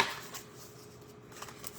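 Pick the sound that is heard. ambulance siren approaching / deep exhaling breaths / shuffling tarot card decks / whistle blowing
shuffling tarot card decks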